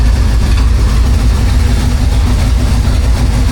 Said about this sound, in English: Bounce around a little bit, but that's just the way this thing idles.